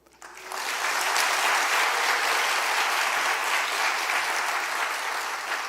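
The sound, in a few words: audience applauding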